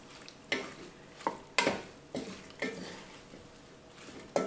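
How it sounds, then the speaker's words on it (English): Steamed broccoli, kale and chopped tomato being stirred together with sauce in a pan or bowl, giving soft wet squishing and scraping strokes that come in irregular bursts about every half second, close and moderately quiet, with no talking. "you're just going to mix this all together, get it all coated with this sauce"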